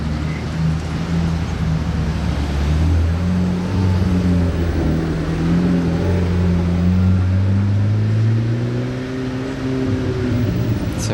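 A black McLaren 765 LT Spider sports car rumbles steadily nearby, its engine drone holding a low, continuous tone that shifts slightly in pitch as it idles and moves, with no voices over it.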